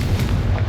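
Confringo blast spell in the video game Hogwarts Legacy: a short, loud, heavy boom with a deep rumbling body, filling the brief moment without any voice.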